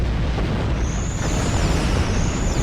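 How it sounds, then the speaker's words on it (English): Starship explosions in the Star Trek Online video game, a dense wash of booming blasts and rumbling bursts running continuously, with thin high-pitched sweeping effects laid over the top, no speech. "Lots of explosions."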